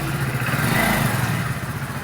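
A motorcycle engine idles close by with a loud, steady chugging rumble for a couple of seconds.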